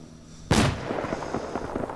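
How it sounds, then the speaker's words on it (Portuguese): A rocket launcher blast goes off close by in the video game ArmA 3. It comes as one sharp, loud explosion after a quiet start and is followed by a rumbling, crackling tail. "veio lançado aqui perto de mim"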